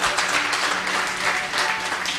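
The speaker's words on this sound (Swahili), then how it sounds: "Makofi mazuri." Applause from a church congregation during a service, a steady dense wash of many hands clapping at moderate loudness throughout, with no voices over it.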